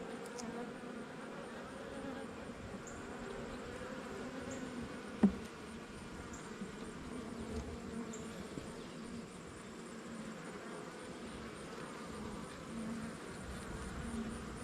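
Honeybees drone at an open hive in a steady, low, continuous hum, quiet and close, with one brief sharp knock partway through and no voices.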